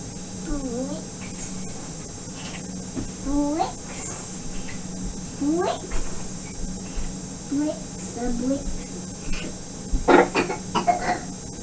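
Several small, raspy coughs come in short bursts over a quiet background of faint insect chirping and hiss.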